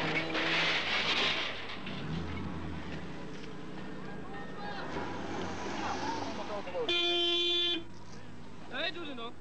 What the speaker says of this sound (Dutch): Gelukkig, de toeter doet het nog.